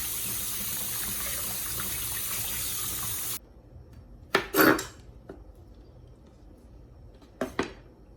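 Cut radish rinsed under a running kitchen tap, a steady broadband water stream for about three seconds, then the flow stops and a few clattering handling and splash sounds follow near the microphone.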